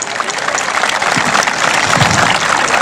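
Loud, dense applause from a crowd at a jaripeo, a rural rodeo festival honoring the faithful departed, swells steadily for a few seconds with a low thump near the end.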